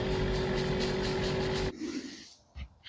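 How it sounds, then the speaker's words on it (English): A film car driving fast, its engine roaring loud and continuous, then cutting off abruptly into quieter rumbling and faint scattered sounds. "Driving really fast."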